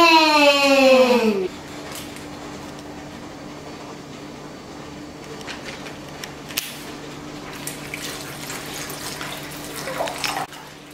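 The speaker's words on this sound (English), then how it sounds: "So first, we're gonna put some water" Water poured into a bag for a leaking bag experiment: a short, loud burst of pouring with a rising tone, followed by a long quiet stretch with faint drips and handling sounds.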